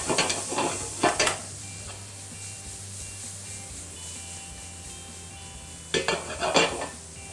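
Onions cooking in butter in a pan, with a steady sizzle throughout and bursts of spoon stirring and scraping at the start and near the end, close by, without talk.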